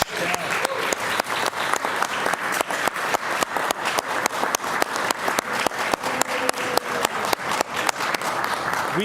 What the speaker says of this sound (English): And again, another round of applause for Lauren at Gaylord College.